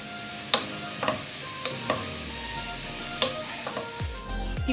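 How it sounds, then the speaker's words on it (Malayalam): Onions with salt sautéing in a pan, a continuous sizzle punctuated by several distinct spoon scrapes and taps against the pan, close and moderately loud. "ഇനി ഇത് നന്നായിട്ട് വഴറ്റിയെടുക്കണം"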